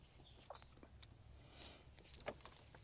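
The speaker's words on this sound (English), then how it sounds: "it's the sound of birds" Faint birdsong: thin high chirps and a sustained whistling call over a quiet outdoor background.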